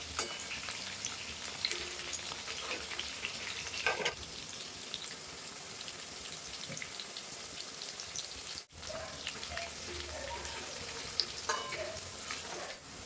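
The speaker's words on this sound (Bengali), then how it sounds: "আমি এখন লাল লাল করে ভেজে নেবো পকোড়াগুলো সব" Chicken pakoras deep frying in oil, a continuous crackling sizzle with scattered pops and occasional stirring sounds, moderately close and steady throughout, no voices.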